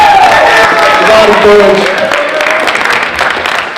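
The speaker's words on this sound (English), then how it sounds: "So give your peers a round of applause for sitting up on the panel" A forum audience applauds young panelists, clapping steadily at moderate distance under a voice speaking briefly at the start, then thinning out.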